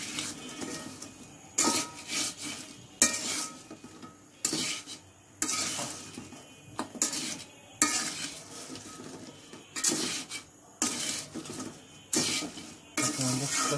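A spoon scrapes and clinks rhythmically against a pot while sugar syrup is stirred as it cools off the heat, steady repeated strokes roughly once a second, close and fairly quiet.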